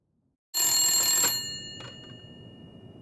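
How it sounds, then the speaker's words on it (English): In the survival video game The Long Dark, a telephone rings once, loud and close, a bright bell burst that cuts off abruptly and leaves a faint hiss and a short echo behind it. "answer the phone and let the cutscene commence"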